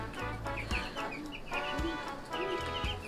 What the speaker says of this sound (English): How can you not be happy when you're playing with little chickies?